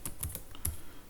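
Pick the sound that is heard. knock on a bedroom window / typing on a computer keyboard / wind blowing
typing on a computer keyboard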